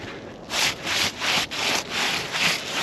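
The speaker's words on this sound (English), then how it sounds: "I'm gonna do the same thing to the shingle right here." A glove is rubbed back and forth over an asphalt roof shingle in five soft, gritty scraping strokes with short pauses between them, heard close up.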